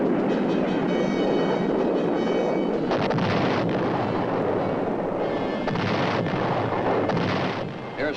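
Combat gunfire and heavy concussive bursts during an airstrike over Southeast Asia, a dense continuous roar with repeated loud blasts and rumbling throughout, no voices.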